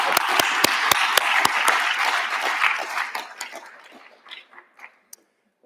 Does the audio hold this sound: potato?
no